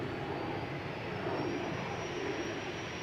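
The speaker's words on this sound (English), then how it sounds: "The Embraer 190 to Trondheim. KLM flight 1151." A KLM Embraer 190 jet takes off at Amsterdam Schiphol, its engines a steady, loud broadband roar close by, with a faint high whine running over the top throughout.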